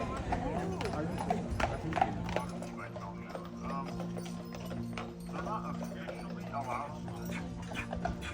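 A horse-drawn carriage passes on an island street, its hooves clip-clopping in a steady rhythm close by, and a voice speaks over the hoofbeats.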